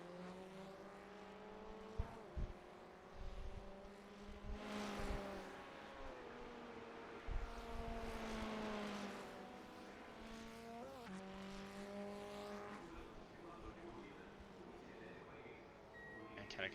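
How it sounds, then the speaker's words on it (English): Race car engines from a Formula Ford field in the iRacing sim at Interlagos, a steady layered engine drone with shifting pitch and a few sharp bursts, running continuously under commentary voices. "I thought I could hear an idling car."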